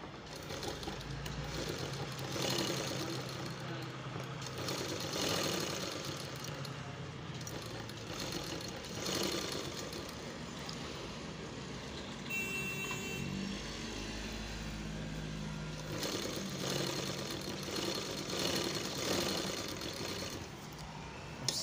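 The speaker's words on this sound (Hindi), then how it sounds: "अब सिलाई मार के हम देखेंगे।" A large sewing machine with a top-mounted feed runs in a continuous, even motorised whir as it stitches cloth. The sound holds steady for the whole stretch, with one brief change in tone partway through.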